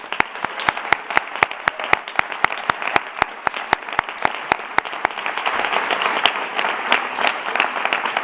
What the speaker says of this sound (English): So this applause is for you, Jaume.